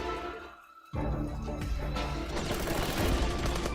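After a brief lull, a dense, loud barrage of rapid video game gunfire erupts and keeps going, with crackling shots layered over one another.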